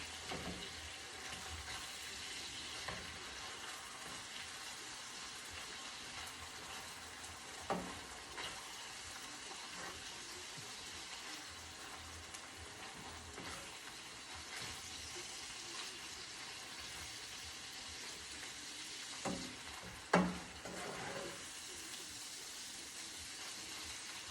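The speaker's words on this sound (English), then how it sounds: "Browning up pretty good." Ground turkey browning in a frying pan for tacos gives a steady, faint sizzle and crackle throughout, with a few soft clinks or spatula scrapes and no talk.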